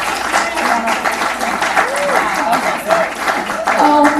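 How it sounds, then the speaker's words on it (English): A large audience at the Women's Earth Alliance spring benefit bursts into loud, sustained applause, dense clapping filling the room, with voices faintly audible through it. "my hands are burning from clapping so hard"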